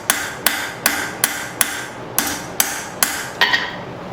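A hammer forges a hot steel banister hook, striking in a regular rhythm of about ten sharp metallic blows in four seconds, close and clear with brief ringing between hits.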